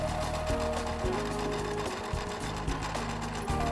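A sewing machine runs steadily while sewing the side seam of a knit tank top with attached pleats, a continuous close whir with brief slowdowns and restarts throughout.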